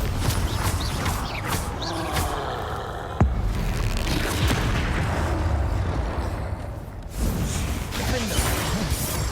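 Bombarda and Confringo spells cast in the Hogwarts Legacy video game: loud, dense booms and crackling blasts layered with clattering game effects, including a sharp impact midway and a second burst later.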